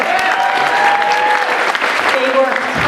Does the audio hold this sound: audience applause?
yes